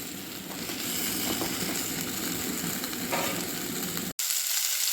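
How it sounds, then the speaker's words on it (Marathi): Cauliflower fries in a pan with a continuous, even sizzle and faint stirring scrapes, close and steady, ending in a brief cut before the sizzle resumes. "टाकून घ्यायचा फ्लॉवर पण व्यवस्थित परतून घ्यायचा"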